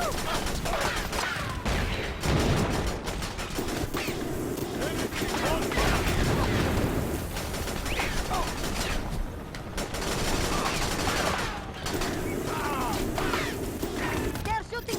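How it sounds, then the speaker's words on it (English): Continuous battlefield gunfire aimed at the commander in the strategy game Battalion Wars, layered machine-gun rattle and crashing shots throughout, with a voice speaking over the action. "They're shooting at the commander."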